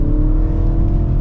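A 2025 Mini Cooper S hard top in sport mode accelerates at half throttle on a twisty road, its engine giving a steady, loud, close hum with a low rumble throughout.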